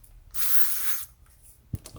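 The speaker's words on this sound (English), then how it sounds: "I'm just gonna spray myself with this." A men's fragrance is sprayed in one short, hissing burst of about three-quarters of a second, close and clear, followed by a faint knock in a quiet room.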